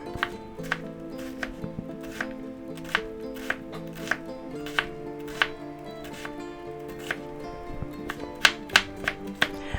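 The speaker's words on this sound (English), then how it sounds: "Now you want this kind of fine, so we'll just go ahead and chop it up more." Food being chopped finely on a cutting board for a grilled tomato, egg, ham and cheese sandwich: close, steady knife strikes in a quick, even rhythm over a faint tonal background, with no talking.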